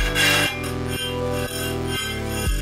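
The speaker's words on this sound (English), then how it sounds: "Just a tiny bit of filing." A file rasps metal on a titanium batarang part to fit a 5 mm LED, in steady back-and-forth strokes about every half second. Close and loud, with no talking.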